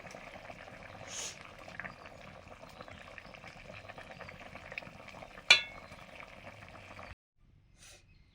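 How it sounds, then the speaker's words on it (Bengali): Fish curry broth with nearly tender vegetables boils after the fish goes in, giving a steady close bubbling simmer with one sharp clink midway before it cuts off abruptly. "ঝোল ফুটে গেছে সবজিগুলো মোটামুটি সেদ্ধ হয়ে এসছে এখন মাছটা দিয়ে দিলাম"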